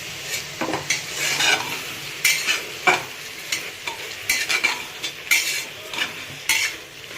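Daliya being stirred and fried in a pressure cooker over a high flame, with a steady sizzle and repeated scraping clinks of a spoon against the metal pot, close up and with no talking.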